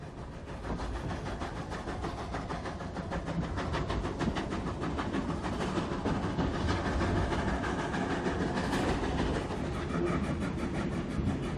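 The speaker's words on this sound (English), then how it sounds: "our refreshed and serviced train is ready to take us on the next leg of our journey" Passenger train of the Union Limited running on rails on the 44-kilometre stretch from Hartenbos to George, South Africa: a steady loud rumble with a fast regular clickety-clack of wheels on rail joints, continuous and close, with no voices.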